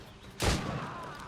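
A single heavy gunshot or cannon blast from the naval action game Assassin's Creed Rogue, a loud sudden boom that rings out and decays over the following second.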